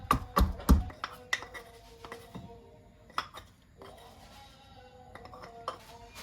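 Sharp taps and knocks on a hard surface, a few loud at the start then scattered lighter ones, as two garlic cloves are crushed on a board in a quiet kitchen.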